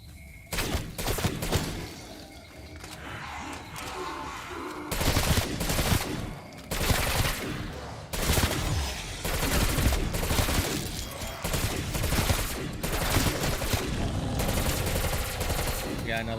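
Call of Duty zombies gameplay gunfire: rapid bursts of automatic weapon shots and thuds, loud and near, repeating in clusters over the whole stretch with a player talking in places.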